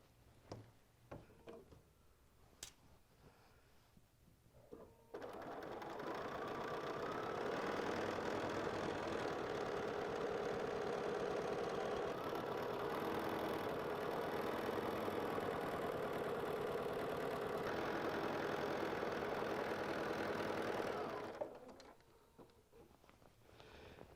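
A sewing machine stitches a border onto a six-panel quilt, running steadily and fairly loud for about sixteen seconds with a constant whirring drone, preceded and followed by quieter handling sounds.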